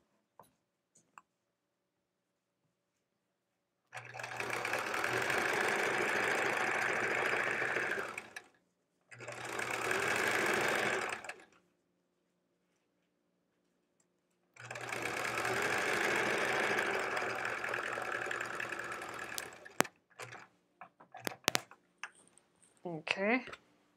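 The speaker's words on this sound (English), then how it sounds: "we're gonna sew it right like that." A sewing machine stitches quilt pieces in three steady runs, each several seconds long, with short pauses between them and faint handling noises at the end.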